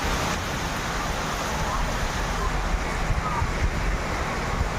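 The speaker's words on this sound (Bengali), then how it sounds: "বৃষ্টি, প্রচুর বৃষ্টি পড়ছে দেখো" A heavy evening downpour pours steadily outdoors, a close, dense hiss of rain that holds continuously without pause.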